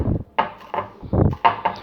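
Quick, muffled chopping taps of a knife cutting cilantro on a wooden cutting board, about six strokes in an irregular rhythm, close by.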